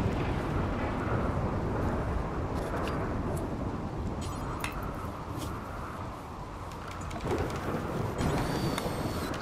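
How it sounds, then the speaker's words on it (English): Heavy storm in the video game RimWorld: steady loud rain hiss carries throughout, with deep rolling thunder rumbling underneath and a few faint chirps scattered on top. "Man, this is a loud storm."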